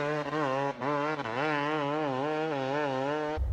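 A car engine runs gently during a leisurely cruise, giving a steady, droning hum whose pitch wavers slightly up and down, heard close and continuous without speech.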